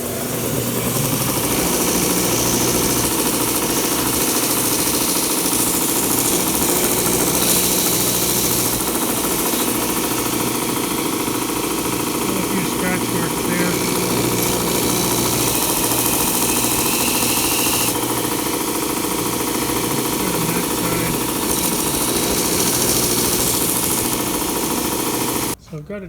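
Sanding a wooden float plane model part, a steady, loud, continuous abrasive rasp that runs unbroken for the whole stretch and cuts off at the very end.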